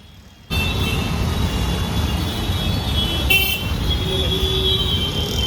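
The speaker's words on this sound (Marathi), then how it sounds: "ट्रॅफिक बघा, तुम्हाला दाखवतो." Busy road traffic outside a station, a steady dense rumble of passing vehicles with a short car horn toot partway through, heard close and fairly loud.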